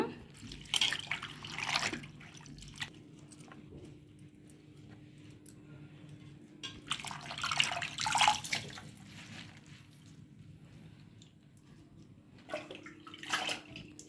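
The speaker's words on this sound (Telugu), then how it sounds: "ఈ ఆకు ఇప్పుడు నీట్గా కడిగేసుకుందాము" Gongura leaves being washed by hand in a bowl of water, with intermittent bursts of splashing and sloshing separated by quieter gaps and a steady low hum in the background.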